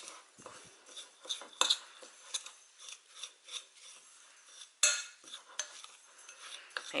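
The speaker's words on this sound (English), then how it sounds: "I'm going to mix that through really well." Dark brown sugar and cane sugar are stirred together in a bowl, giving close, gritty scraping and light clinking taps in an uneven rhythm, with sharper knocks against the bowl now and then.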